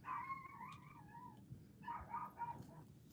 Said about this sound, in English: the dogs are really screaming